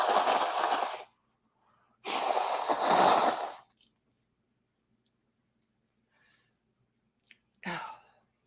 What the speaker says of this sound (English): I gotta rudely blow my nose here.